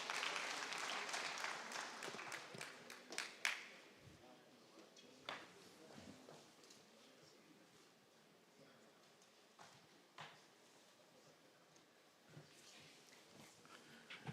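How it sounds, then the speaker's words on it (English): Applause from the audience at an agriculture conference as the Minister of Livestock Development joins the stage, a broad clapping wash that fades to scattered claps and quiet room noise. "A round of applause for him, ladies and gentlemen."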